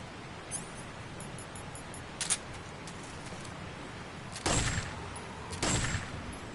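Automatic gunfire in the video game Metal Gear Solid 3 comes in short bursts, a brief crack early, then two louder rattling volleys near the end over a quiet background hiss.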